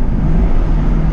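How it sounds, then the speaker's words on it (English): Supercharged V8 of a Jaguar F-Type R with its dual-mode exhaust open, a loud, steady low rumble held close up for about a second with no talk. "this car's got a dual mode exhaust on it, which I have open currently right now"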